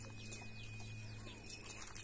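Chickens clucking inside a backyard chicken coop, soft scattered calls and chirps over a steady low hum, fairly faint and with no one speaking.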